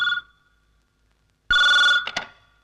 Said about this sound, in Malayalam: നീ ആ ഫോൺ നിർത്തേ.